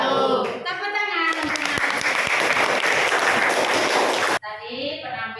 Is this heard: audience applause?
yes